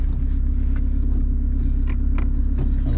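A Renault Clio IV RS idles with a steady low engine rumble heard from inside the car, only small rises in tone as the throttle is lightly tapped.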